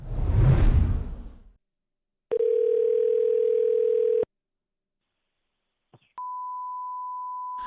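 A telephone call to a coin shop: a soft whoosh, then a steady dial tone for about two seconds, a short blip, and a sustained single-pitch beep, all clear and close with no talking.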